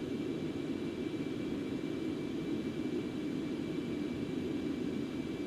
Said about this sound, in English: So throttling back.